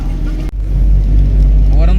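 A Force Cruiser AC van drives along a road from Ujjain toward Maharashtra, its engine and road rumble steady and loud throughout, with a brief dip near the start and a voice speaking over the cabin noise.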